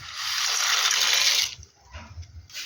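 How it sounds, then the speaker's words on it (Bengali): Pasta goes into a pot of boiling water in a home kitchen with a close, bright rush and splash, then drops to softer bubbling and sputters, with no speech. "এবার এই ফুটন্ত জলের উপরে পাস্তাগুলোকে দিয়ে দেব।"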